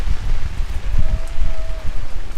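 Steady rain falls on an outdoor mourning gathering, a dense continuous hiss with some wind rumble close to the microphone and no talking.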